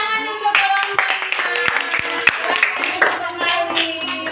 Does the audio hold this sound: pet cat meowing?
no